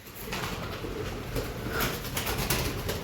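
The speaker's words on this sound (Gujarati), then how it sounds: "પક્ષી અંદર છે" Pigeons coo softly indoors inside a room of an old haveli, low throaty calls repeating over a steady background hum.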